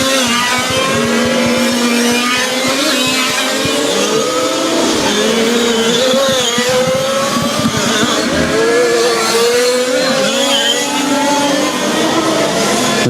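Small 1/5 scale petrol RC race cars lap a track at a national championship final, their high buzzing engines rising and falling continuously as several pass, loud and busy with faint commentary underneath.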